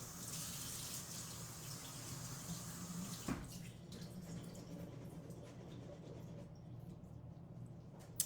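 Tap water runs and splashes as garbanzo beans are rinsed in a kitchen sink, steady and close at first, then stopping abruptly partway through, leaving a quieter room with faint drips and handling.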